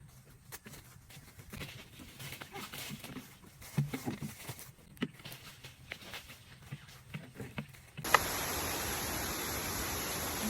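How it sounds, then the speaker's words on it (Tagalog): On a mountainside, scattered light patter and soft taps give way abruptly to a dense, steady hiss of heavy rain pouring down. "inabutan na kami ng ulan"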